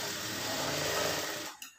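A sewing machine runs a quarter-inch seam on a blouse in one short, steady burst of rapid stitching that stops abruptly.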